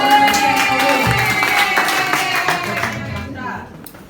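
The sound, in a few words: audience clapping at a cooperative annual meeting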